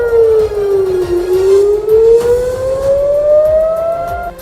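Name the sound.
air raid siren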